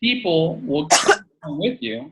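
A single sharp sneeze bursting out between stretches of a man's speech, loud and close, with talking resuming right after.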